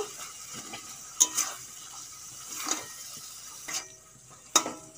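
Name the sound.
frying brinjal (eggplant) with spice masala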